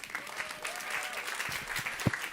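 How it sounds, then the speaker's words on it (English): Audience applause at a talk on nourishing people and the planet, a steady dense wash of clapping filling the clip with one louder clap near the end and faint voices beneath. "Keep that round of applause going."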